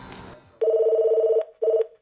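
Landline telephone bell ringing loudly and close, a long sustained ring followed by a short second burst, with no talk over it.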